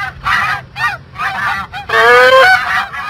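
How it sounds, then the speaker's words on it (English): A goose honks loudly and close, several nasal calls in a row, the last one longer and stronger, with no talk over them. "Goose, goose."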